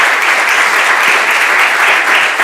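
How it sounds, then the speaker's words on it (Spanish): An auditorium audience applauds its guests at a Spanish talk event, with dense, loud, sustained clapping that continues steadily throughout. "Un aplauso para nuestros invitados."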